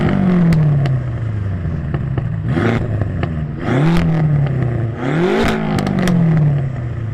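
A BMW M5 with a full exhaust system from headers back and quad tips revs in short bursts, its engine note rising and falling several times up close, with some clatter between blips.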